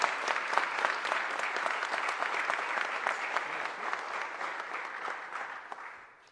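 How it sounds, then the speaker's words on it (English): An audience claps for the mayor at a business roundtable launch, a steady room-filling round of applause that holds evenly before tapering off at the very end. "Let's give her a round of applause"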